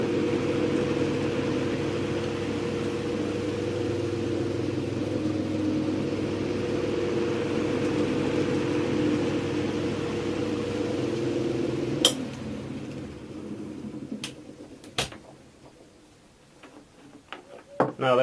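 A Verity Orbit Light electric fan with unbalanced blades runs with a steady motor hum and a rhythmic wobbling drone, then switches off and winds down, leaving a few light clicks and knocks.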